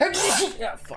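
A single sharp sneeze bursts out close by, followed immediately by a short muttered reaction from the same voice.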